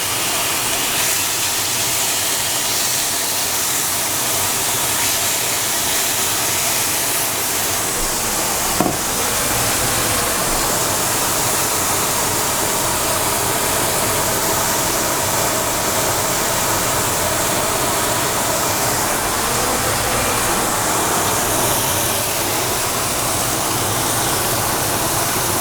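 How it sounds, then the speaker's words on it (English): A ribeye steak sears over really high heat in a very hot pan, giving a loud, constant broad sizzle and hiss that runs without a break. "So I'm going to add one of the smaller ones. But I don't really want them to touch because I want them to sear."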